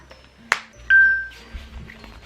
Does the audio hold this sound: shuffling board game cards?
no